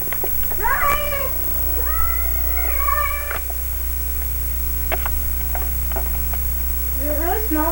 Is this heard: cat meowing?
yes